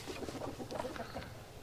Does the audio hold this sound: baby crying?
no